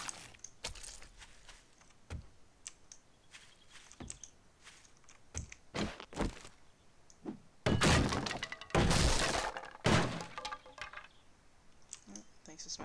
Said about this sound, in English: Smashing a door for me.